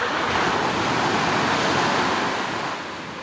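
Big sea waves surge and crash in a continuous, roaring wash of surf that fades slightly toward the end, with wind buffeting the microphone and no voices.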